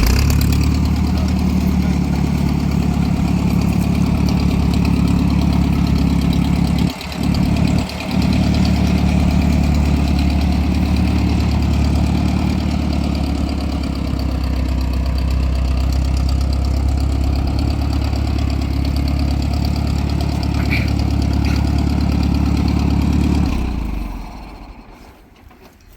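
An old farm tractor engine idles steadily after starting, a loud, close, low chugging that holds for over twenty seconds with two brief dips early on, then fades out near the end.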